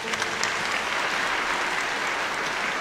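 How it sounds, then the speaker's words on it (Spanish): A church congregation applauding a parish priest during a patronal feast homily, a broad steady patter of many hands clapping, evenly sustained throughout. "un aplauso"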